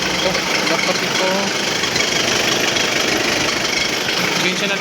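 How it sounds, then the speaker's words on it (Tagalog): Rough, noisy car engine idling with a fault and overheating, a dense continuous rumble with knocking and vibration, loud and close throughout. "pakaingay dahil nag-bandar ang ating makina"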